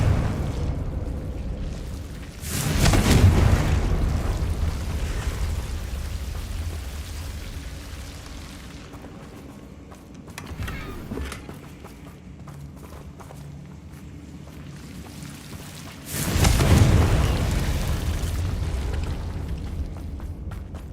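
Confringo fire spell explosions in the Hogwarts Legacy video game: two loud, deep booming blasts about fourteen seconds apart, each decaying into rumble, with quieter ambient game sound in between.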